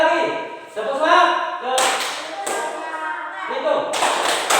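A classroom group repeating tepuk semangat spirit clapping, brisk patterned hand claps from several people breaking in between spoken and chanted voices, near and fairly loud.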